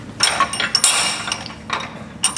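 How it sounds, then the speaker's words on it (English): A center punch is tapped into a steering shaft held in a vise, giving several sharp metallic clinks and taps at irregular spacing, close and bright, with no talk. "Now, I will lightly put me a center punch so my drill won't walk."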